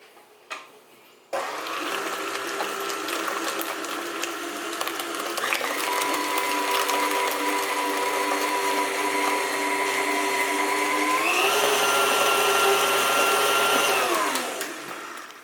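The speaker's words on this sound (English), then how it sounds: "Next we are going to add 3 eggs, and we are going to beat it until it's well mixed." An electric mixer beats three eggs into cheesecake batter, a steady whirring motor hum that starts abruptly, holds for about ten seconds, then rises in pitch as the speed increases before winding down near the end.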